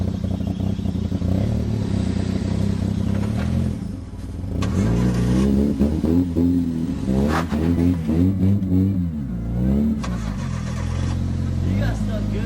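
A car stuck in snow revs its engine repeatedly, the pitch rising and falling in strained surges with a short lull partway through, loud and close; people talk over the engine noise.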